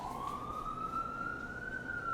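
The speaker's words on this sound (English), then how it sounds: "there are now police cars outside for some reason" A wailing police car siren sounds outside, a single steady rising tone heard from a distance through the walls, moderately faint and continuous with no voices over it.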